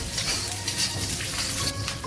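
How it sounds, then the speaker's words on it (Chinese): Scallion, ginger and garlic sizzling in hot oil in a wok, a steady close crackling hiss running evenly throughout with no talk. "我们把锅烧热，加入底油，放入葱姜蒜爆香"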